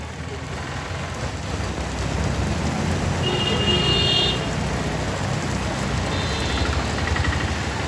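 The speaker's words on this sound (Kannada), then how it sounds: "ಈ ಮಳೆ ಎಲ್ಲೂ ಹೋಗಂಗಿಲ್ಲ" Heavy rain pours steadily onto a flooded road in Sakleshpur, a dense continuous hiss close by, with faint chirping or tones briefly rising over it.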